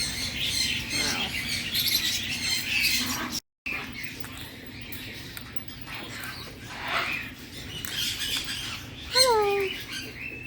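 Birds squawk and chirp among the cages of a bird store, with rising calls near the end over a steady room hum and background chatter.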